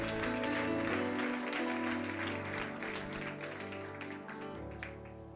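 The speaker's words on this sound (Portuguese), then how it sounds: "Você pode aplaudir o nome do Senhor?" A church congregation applauds during a worship service, a steady, dense wash of clapping that holds throughout, with sustained music or organ tones running underneath.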